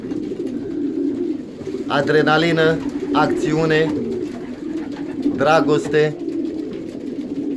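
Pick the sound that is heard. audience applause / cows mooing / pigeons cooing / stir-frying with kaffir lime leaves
pigeons cooing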